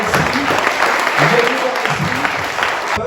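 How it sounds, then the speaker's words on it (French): Loud, close applause from a crowd at an event for Salah Hamouri, dense steady clapping filling the whole stretch with some voices mixed in. "je voudrais des applaudissements pour Salah"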